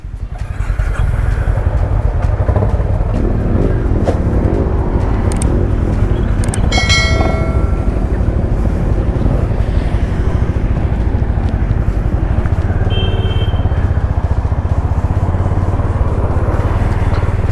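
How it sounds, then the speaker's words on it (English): A group of motorcycles rides along a single-lane road, a loud, continuous low engine drone with rushing wind throughout and a few brief higher tones passing by. "We've got a variety of motorcycles today"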